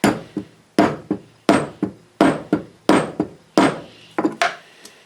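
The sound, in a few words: hammer whacking a tool to set a bracelet snap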